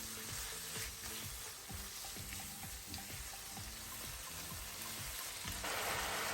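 Chopped red bell peppers and spices with garam masala and water sizzle steadily in a pan, with rhythmic scraping stirs repeating about every half second, close and fairly quiet, no voices.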